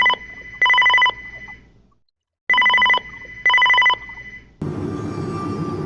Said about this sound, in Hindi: तभी उससे पुराना टेलीफोन बजने की आवाज आती है।